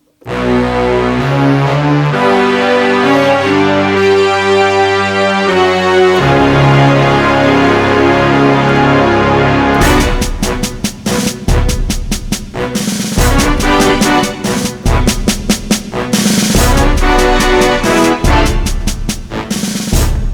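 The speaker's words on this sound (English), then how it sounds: "we can layer up nice big orchestral kind of sounds" Thick layered Korg Microstation synthesizer chords swell in a sustained orchestral wash, then a driving rhythmic section with percussive hits takes over, loud and dense.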